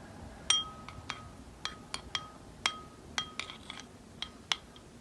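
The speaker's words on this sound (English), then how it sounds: "I'm gonna stir this up and see if I need more." Spoon clinking against a bowl while stirring a homemade fluffy slime mixture with red acrylic paint added, a series of sharp, bright taps at irregular intervals over quiet background.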